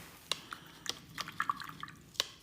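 A watercolor paintbrush swished in a small cup of rinse water, giving faint, close drips and light taps against the container, a few scattered splashes in quiet surroundings.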